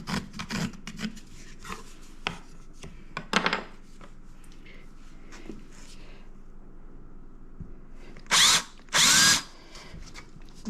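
A drill with a Forstner bit bores into very hard walnut from a storm-downed tree, giving short, loud grinding bursts between quieter scraping and handling noise.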